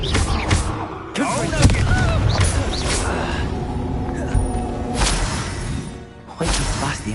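Expelliarmus spell effects in Hogwarts Legacy combat, with repeated whooshing bursts and booming impacts over several seconds amid crashing battle noise, with voices calling out in between.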